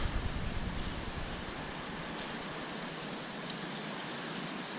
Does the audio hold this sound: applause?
no